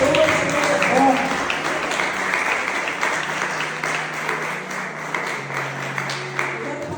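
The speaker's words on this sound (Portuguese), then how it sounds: "Vamos aplaudir o Senhor" A church congregation applauds during a worship service, a dense burst of clapping that gradually thins and fades, with voices and a sustained musical tone underneath.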